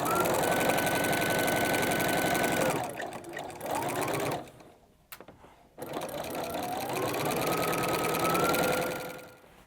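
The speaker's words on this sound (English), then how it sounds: "I'm going to use my walking foot for this step." A sewing machine fitted with a walking foot stitches a quilt-as-you-go Christmas tree skirt, running in long, steady, loud mechanical whirring bursts with a brief stop and some handling noise midway before stitching resumes.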